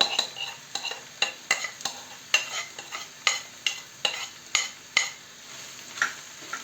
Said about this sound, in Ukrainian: підсмажила їх і тепер додаю відварену квашену капусту. І будемо тушити її